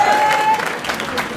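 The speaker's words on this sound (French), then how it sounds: "on l'applaudit s'il vous plaît" A crowd at a live rap battle event claps in a loud, continuous burst that gradually eases, with a brief whistle-like tone early on.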